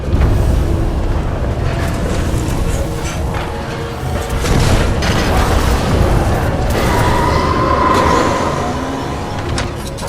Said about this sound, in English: Explosions just weakened the manipulator arm.